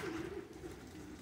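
Domestic show pigeon cooing softly in a loft, a low wavering coo that rises and fades over about a second amid faint room noise.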